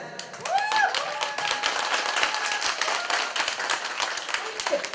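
Guests at a Ukrainian family-joining ceremony break into lively hand clapping, many sharp claps close by in a busy, steady burst, with voices calling out over them.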